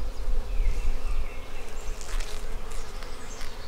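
Agitated honeybees buzzing during a beehive inspection, a dense steady drone of many bees close by with a few louder individual whines passing near.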